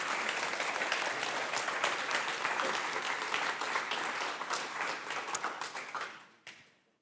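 An audience at the PHPDD2024 PHP conference claps in sustained, dense applause that stays loud for several seconds, then thins out and fades to a few final claps.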